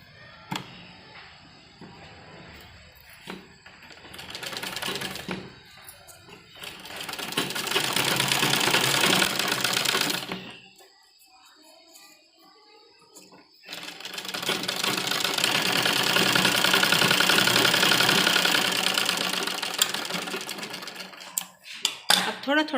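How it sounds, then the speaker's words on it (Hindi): A sewing machine stitches an old dupatta fabric being made into a suit or kurti, whirring in two long, loud, close runs separated by quieter stretches. "अब सबसे पहले हमें इस तरीके से कपड़े को फोल्ड करते हुए कच्ची सिलाई इसके ऊपर लगाएंगे।"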